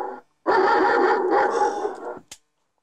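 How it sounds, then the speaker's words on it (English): An electronic barking-dog security alarm plays in a small room, giving a loud burst of dog barks and growls that lasts about two seconds, followed by a short yip. "it should sound like the dog is in a room like this"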